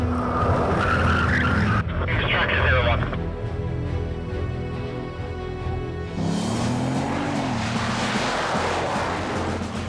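Race car braking hard from 188 mph into a turn, tires skidding; loud engine roar drops away into a sustained broadband tire scrub and screech, continuous over about ten seconds with a shift midway, with a voice talking over it.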